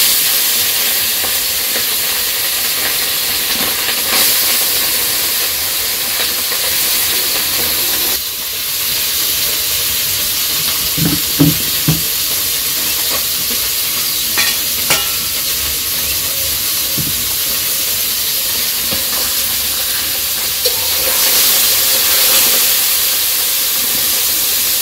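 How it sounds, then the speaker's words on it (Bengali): Fish frying in oil with cumin seeds in a village kitchen, a steady broadband sizzle and hiss running throughout, with a few louder crackles and pops midway and no talking. "তো মাছ ভাজার জন্য তেল দিয়ে দিছে আর জিরা দিয়ে দিল, মানে মাছ ভাজা"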